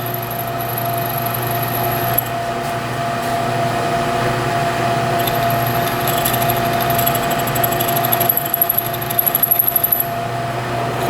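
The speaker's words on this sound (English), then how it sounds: "number 28 drill bit, pretty simple drilling procedure on the mill" A milling machine drills with a number 28 bit in a home shop, giving a steady high-pitched motor whine with a constant hum beneath and faint ticking toward the end, with no talking.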